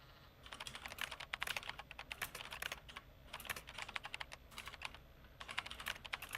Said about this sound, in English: It's going to be a bad demonstration of my typing.